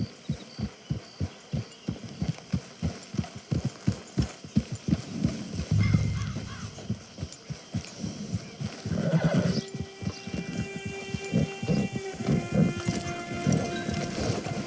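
A horse is ridden into camp in Red Dead Redemption II, with rhythmic clip-clop hoofbeats that slow and settle. Snorts and a whinny follow, then layered ambient camp sounds at the end.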